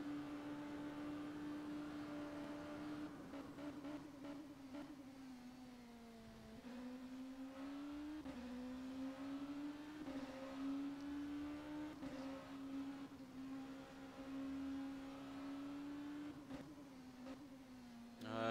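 A sports car engine at Road America in rFactor 2 holds a steady high-revving drone in 5th gear through the kink, with brief dips and rises in pitch as the driver lifts and reapplies throttle, heard alone.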